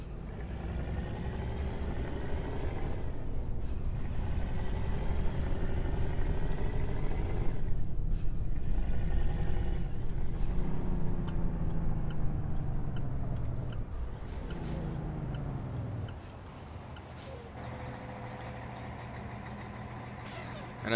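Kenworth T660 truck in a truck driving game, its engine droning loud and steady under repeated air-brake hisses and whistling turbo spool, fading to a quieter idle near the end.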